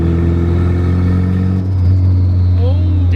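Boosted K20-engined Honda Civic idling loud and close with a deep steady drone, a brief dip then a gentle rev where a faint fluttering whoosh rises near the end.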